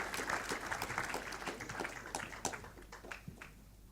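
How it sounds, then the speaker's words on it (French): Audience applause for a film screened at an agricultural education anniversary event, a steady crowd clapping that fades toward the end with a few scattered claps. "Je crois qu'on peut applaudir ce film."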